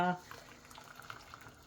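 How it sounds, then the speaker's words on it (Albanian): Water bubbles and simmers in a pot of boiling grape leaves, a soft, steady roiling with small pops throughout, following a brief tone at the very start. "I lëm 5 minuta të ziejnë mbasi kanë marrë val."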